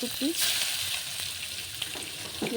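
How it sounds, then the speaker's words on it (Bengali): Bay leaf, whole garam masala and chopped onion frying in hot oil left from frying fish, giving a steady hissing sizzle throughout with light stirring and brief faint voice sounds. "তেল গরম হয়ে গিয়েছে, দিচ্ছি তেজপাতা, গোটা গরম মশলা, পেঁয়াজ"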